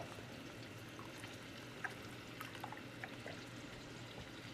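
Chicken broth pours steadily into a pot with a soft, continuous splashing, a few faint clinks here and there, no talking.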